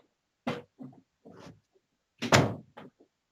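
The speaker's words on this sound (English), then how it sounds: "get this door closed here" A room door is pushed shut during a recorded conversation, with several close knocks and bumps followed by one louder thud and a couple of lighter taps.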